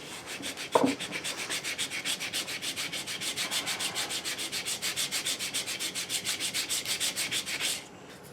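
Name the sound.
sanding wood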